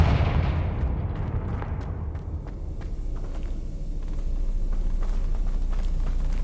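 A Confringo fire spell bursts in Hogwarts Legacy, a loud blast that opens the clip and fades into a long rumbling tail with scattered crackles.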